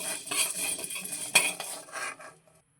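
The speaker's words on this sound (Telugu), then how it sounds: "డ్రై రోస్ట్ చేసుకుంటున్నానండి." Moringa leaves dry roast in a pan, with close metallic scraping and clinking of a spoon against the pan. The sound is fairly faint and stops after about two and a half seconds, with no talk.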